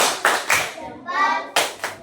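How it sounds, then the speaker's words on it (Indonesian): A classroom of children claps for a student in a Hindu religion lesson in Indonesia, a patterned salute of sharp, bright claps in quick bursts with a short pause in between, close and moderately loud. "Kasih tepuk salut dulu buat Ganendra."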